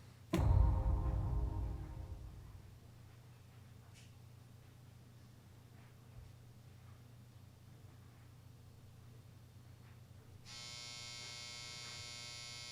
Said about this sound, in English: That's my very aggressive dryer letting me know that my clothes are dry.